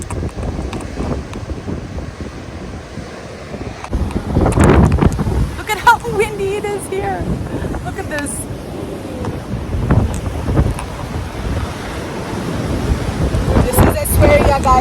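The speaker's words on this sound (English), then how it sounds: "Look at how windy" Strong wind gusting on the Atlantic coast at Essaouira, Morocco, buffeting the microphone in a constant roar with surges, while a person talks intermittently over it.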